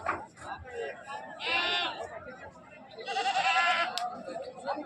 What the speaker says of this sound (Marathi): इथं बकरीचा बाजार पण भरतो